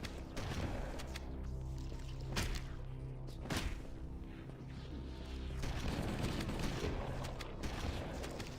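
Gunfire from the video game Halo: Combat Evolved, with several sharp shotgun-like blasts and crashing impacts over a continuous game soundscape, moderately loud, and no one talking.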